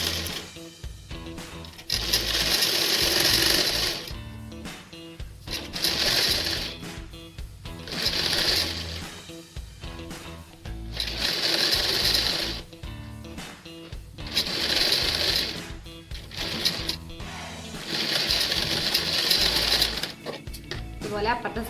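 A sewing machine stitches the folded edge of an apron in repeated loud whirring bursts separated by short pauses, with someone talking in between runs.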